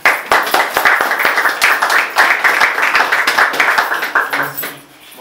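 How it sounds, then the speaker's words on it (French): A ceremony audience breaks into loud, close, sustained applause, sharp individual claps standing out in a brisk uneven rhythm before the clapping dies away abruptly at the end. "Sous vos applaudissements."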